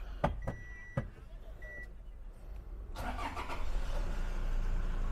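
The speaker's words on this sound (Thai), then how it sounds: "เดี๋ยวพี่ขวัญลองสตาร์ทให้เนาะ" A black 2018 Toyota Ventury V van starts up: a few sharp clicks and a brief chime, then the engine catches around midway and settles into a steady idle close by. There is no talk.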